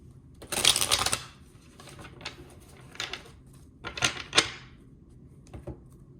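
Tarot cards being shuffled and drawn during a reading, a few quick papery riffles and flicks close by in a quiet room, the longest burst near the start and shorter ones following.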